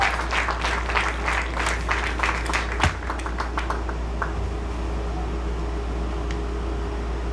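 An audience at a high school athletic awards ceremony claps for a varsity cross country team, a short burst of applause that dies away within about four seconds over steady background hum.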